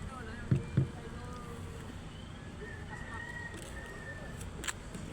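Steady low rumble of a boat engine crossing open sea with wind, a couple of short thumps early on, continuous throughout.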